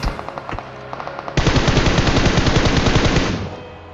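Gunfire rings out in a shooter video game. Scattered single shots come first, then a loud, sustained rapid-fire automatic burst rattles on for a couple of seconds before tapering off.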